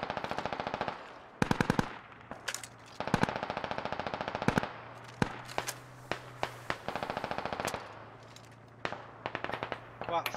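Rapid automatic gunfire and single shots from the military shooter game Squad, loud bursts crackling in quick runs with pauses, close and distant weapons overlapping, with faint talk underneath.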